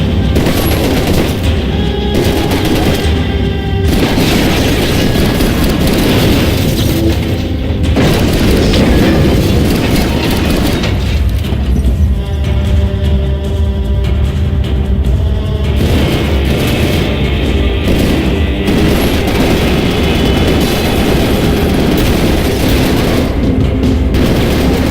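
A building is blown up in Max Payne 3: heavy booms and rattling bursts of gunfire-like blasts fill the scene continuously and loudly, with brief lulls between rumbling explosive waves.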